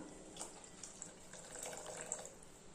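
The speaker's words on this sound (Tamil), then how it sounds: "இப்போ நம்ம புளி தண்ணி ஊற்றிக்கலாம்" Tamarind water pours steadily into a pot for a few seconds, a soft continuous splashing trickle without any talking.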